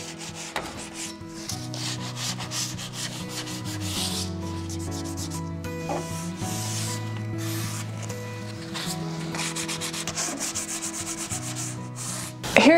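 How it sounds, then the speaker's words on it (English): Light hand sanding of painted wood with 220-grit sandpaper on a thrifted sofa table, a steady close scratchy rubbing in continuous back-and-forth strokes with no talk. "I'm just going to lightly hit this with 220 sandpaper"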